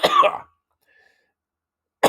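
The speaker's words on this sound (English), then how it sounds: "that cough is just brutal" A single harsh, close cough bursts out at the start, followed by near silence, with the onset of another cough or voice cut off at the very end.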